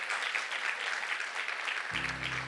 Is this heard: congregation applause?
yes